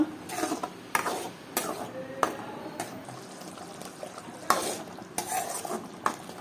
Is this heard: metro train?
no